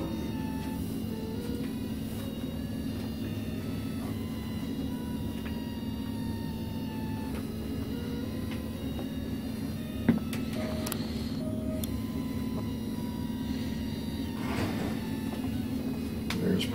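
A Hyrel3D 3D printer extruding plasticine through a needle, with a steady motor hum and whine, shifting stepper tones, and occasional clicks and one sharp knock, alone without talk.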